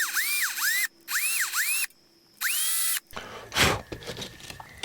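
A power drill with a regular bit spins in three short whirring bursts that rise and fall in pitch, followed by rougher grinding and scraping as it bites into a small resin fishing lure.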